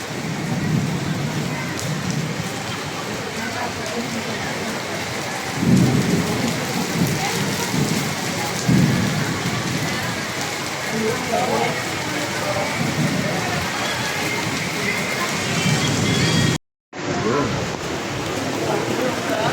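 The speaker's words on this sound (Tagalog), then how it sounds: "Hindi pa rin tumitigil ang ulan." Heavy rain pours in a dense, steady roar, with a couple of low rumbles of thunder breaking through early on and a brief dropout near the end.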